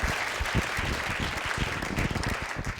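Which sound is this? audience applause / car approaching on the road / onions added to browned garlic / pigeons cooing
audience applause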